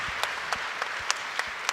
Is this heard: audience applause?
yes